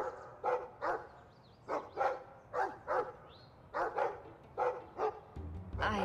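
A dog in the Dragon Age 2 video game barks repeatedly in a steady run of about a dozen sharp, close barks, with a low rumble rising at the end.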